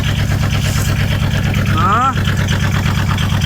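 A microcar (moped car) engine idles through its muffler close by, giving a loud, steady low-pitched throb with a brief whine partway through, under someone speaking.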